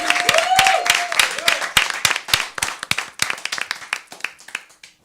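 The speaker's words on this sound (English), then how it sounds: "I want us to give a boisterous round of applause to Kendrick Lamar" Sparse clapping from a small studio audience for Kendrick Lamar, distinct individual claps that start busier and thin out over several seconds, with a voice briefly heard at the start.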